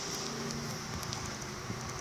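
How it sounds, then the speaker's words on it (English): Minecraft rain pours down as a continuous, moderately loud wash of hissing patter, unbroken and with no voices. "I'm very sorry for the rain."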